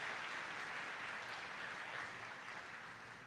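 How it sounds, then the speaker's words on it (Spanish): Congregation applauding actors during a church service, a soft, dense and even wash of clapping that carries on steadily from start to finish before easing slightly at the end. "Den un aplauso a estos actores tremendos."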